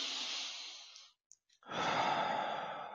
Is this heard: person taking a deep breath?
yes